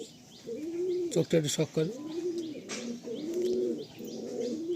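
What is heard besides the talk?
racing pigeons cooing in loft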